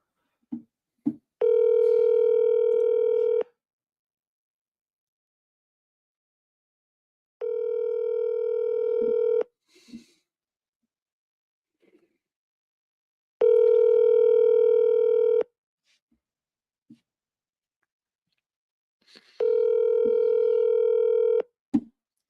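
A cell phone ringback tone sounds during an outgoing call, four evenly spaced steady tones each lasting about two seconds with long quiet pauses between, faint clicks in the gaps.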